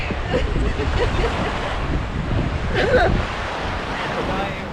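Waves washing onto the shore of Lake Ontario, a continuous broad wash of surf mixed with heavy wind buffeting the microphone, loud and close, with a brief faint voice-like sound near the middle.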